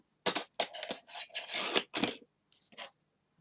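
Scissors snip a short piece of thread for a rustic gift tag on a wrapped wine bottle, a quick series of close, dry cutting and rasping sounds followed by two softer snips, with no talking.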